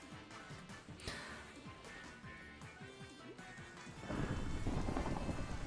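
Game thunderstorm in a blocky sandbox world: steady rain hiss with rumbling thunder, a sharp crack early on, then the downpour swelling louder near the end.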